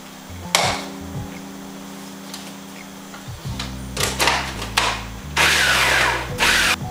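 A food processor pulses to chop zucchini, giving a series of short motorized whirring bursts with clattering bumps, about five or six pulses of varying length up close.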